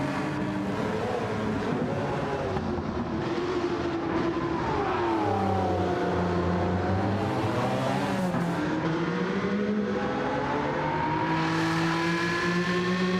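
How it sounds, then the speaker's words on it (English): A loud Jaguar XJ220 engine in a racing video game roars steadily, its pitch rising and falling as it revs and shifts, with no talking over it. "That's a good sounding engine."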